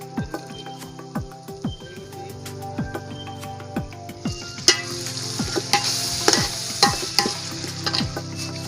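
Tomatoes fry in a pan for biryani while a spoon stirs and scrapes in a steady rhythm, the sizzle swelling louder and brighter partway through.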